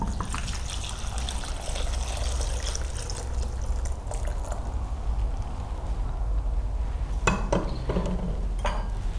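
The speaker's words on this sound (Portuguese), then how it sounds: "Adicione na panela com as pétalas de flores do campo 1 litro de água" One litre of water is poured into a pot holding wildflower petals, a steady, close trickling and gushing stream that runs continuously, with a few sharper splashes near the end and no talking.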